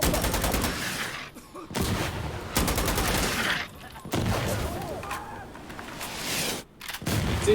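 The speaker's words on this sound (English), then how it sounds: "that was a bad reload because I ran that completely empty and had to charge the bolt there" Rapid bursts of video game rifle fire come in several loud volleys separated by short pauses, with mechanical reload and bolt-charging clicks falling in the gaps after the weapon is run empty.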